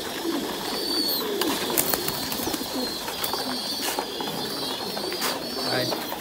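Thai Titan meat pigeons cooing in a multi-tier loft, soft repeated coos overlapping at mid distance, with occasional clicks and rattles from cage mechanisms and someone speaking over them.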